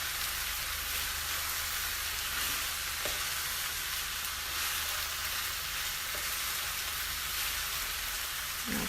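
Shrimp fried rice with vegetables sizzles steadily in a hot pan while being stirred and turned, a continuous close crackling hiss with occasional soft scrapes.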